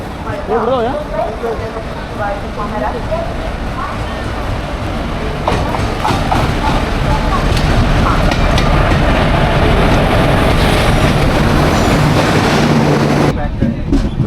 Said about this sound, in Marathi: ट्रेन आता आलेली आहे मांडवी एक्सप्रेस